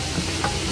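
Carrots, chayote, onion and garlic sauté in a hot pan for bean-sprout lumpia filling, giving a brief, steady, close sizzle with light stirring and no voices.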